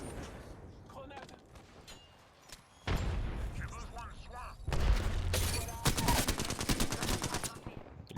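Gunfire in Apex Legends, rapid bursts of automatic shots and louder blasts coming in clusters, with a voice talking over the action.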